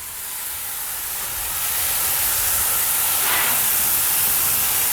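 Chicken sizzles on a barbecue grill in a Gator Pit smoker, a loud, close, continuous broadband hiss that swells slightly and holds steady.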